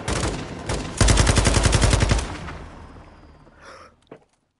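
Modern Warfare 2 campaign gunfire: a loud burst of rapid automatic shots, followed by a fading rumble and a sharp final crack, with no talking.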